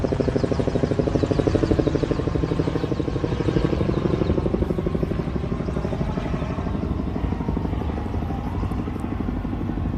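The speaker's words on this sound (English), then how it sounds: "got the chopper up above" A helicopter flies overhead in New York City, its rotor throbbing in a fast, steady chop that stays loud and close for the full stretch with no voices.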